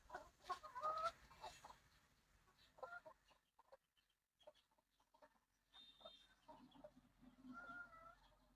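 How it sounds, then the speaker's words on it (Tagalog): Chickens squabble nearby with sharp clucks and squawks in quick bursts, then a pause and a second round of agitated calls, fairly quiet against a still outdoor background. "Tingnan mo, nag-aaway na yung manok"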